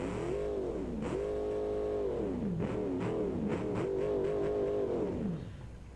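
A 1000hp V8 car engine in a video game revs continuously and loudly, its pitch climbing and falling in repeated sweeps before easing off at the end, with no talk over it.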